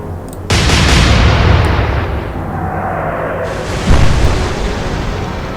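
A naval gun salvo in the Atlantic Fleet game fires as a heavy booming blast that rolls out into a long rumble, followed by a second deep boom, loud and close with no talking.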